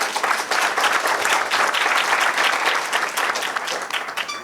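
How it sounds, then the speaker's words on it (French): Audience bursts into loud, sustained applause during a minister's speech at a diaspora association event, dense clapping close by that holds steady before tapering at the end. "Et ça s'applaudit."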